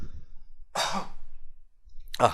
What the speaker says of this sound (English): just have a quick cough, hold on 1 second.